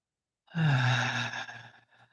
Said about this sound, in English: Take a deep, full breath in and out.